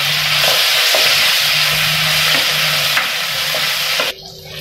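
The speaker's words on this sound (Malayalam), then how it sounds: "ഇനി നമുക്കിതിലേക്ക് നമ്മൾ കട്ട് ചെയ്ത് വെച്ചിരിക്കുന്ന വെണ്ടയ്ക്ക ഇട്ട് കൊടുക്കാം." Cut okra sizzles loudly in hot oil in a pan, with a steady frying hiss, soft stirring scrapes and clicks, and the sizzle drops off sharply at the end.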